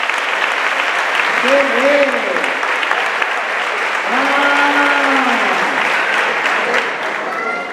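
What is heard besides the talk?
audience applause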